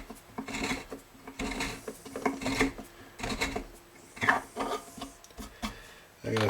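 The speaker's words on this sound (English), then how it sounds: "So I have to ream this hole out to fit that new diameter" A reamer turns in a tuner hole of a Recording King acoustic guitar's wooden headstock, giving rhythmic scraping, rasping strokes that come and go in short bursts, close and fairly quiet.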